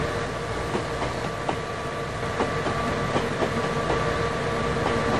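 A train running in the video game 3D Railroad Master, a steady rolling rumble with rhythmic clickety-clack of wheels over rail joints, continuous and fairly loud.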